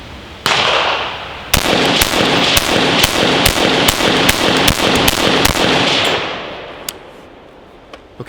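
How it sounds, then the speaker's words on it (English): Ten or so sharp, loud rifle shots fired in quick succession from a rifle fitted with a Sail Comp muzzle brake, each crack ringing out with a short echoing tail before the range falls quiet. "hopefully we'll see how fast I can get 10 rounds downrange"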